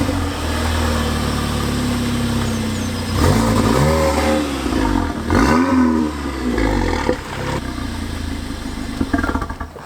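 A modified 400 BHP Volkswagen Golf R engine idles, then revs up in several sweeping bursts around the middle, loud and close, before settling back to a rough idle with a few sharp blips near the end.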